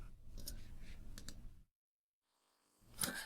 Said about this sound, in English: I'm going to click that.